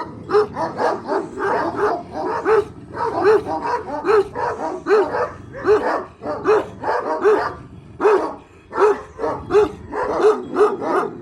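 A dog barks repeatedly and rapidly, loud and close, in a steady run of yapping barks with short pauses between bursts.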